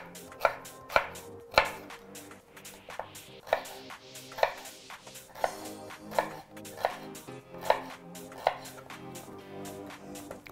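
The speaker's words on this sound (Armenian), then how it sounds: "շատ պարակ կտրատում եմ։" Greens are chopped finely with a knife on a cutting board in a series of crisp, evenly spaced close chops, each a sharp tap with a faint metallic ring, with no talking.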